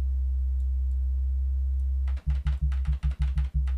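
Deep sustained bass synth tone from the DUBturbo VST plugin, a steady low drone for about two seconds that then breaks into a choppy, rhythmic run of short pulsing bass notes with brighter clicky attacks, alone and fairly loud.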